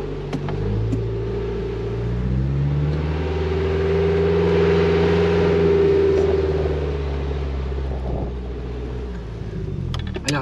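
A Suzuki Grand Vitara or Renault Duster 4x4 engine revs and strains in first gear climbing a sand dune, a loud steady drone rising and falling in pitch, close by, with no talk.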